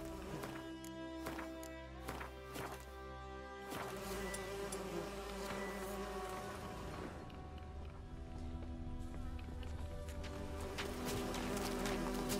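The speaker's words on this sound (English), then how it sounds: "Okay, so the bees are on me" A swarm of bees buzzes in the video game The Witcher 3, a dense, steady, close drone that continues alongside background game music and ambience, with no speech.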